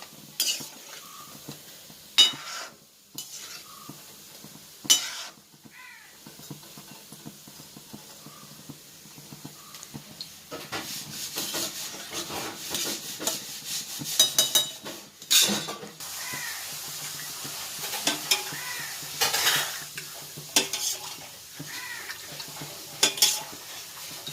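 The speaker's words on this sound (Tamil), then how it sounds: "இன்னும் கொஞ்சம் உருண்டை பொரிக்க வேண்டியிருக்கு" Gulab jamun dough balls fry gently in a pan of oil while a spoon or ladle stirs and turns them, with soft sizzling and repeated light metallic scrapes and clinks throughout.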